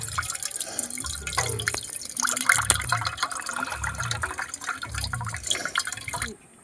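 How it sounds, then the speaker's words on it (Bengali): Water poured out of a freshly cut green coconut, a steady trickling and dripping stream with splashy bursts that runs for several seconds and then stops. "এবারে আমি ডাবের জলটা বার করে নেব।"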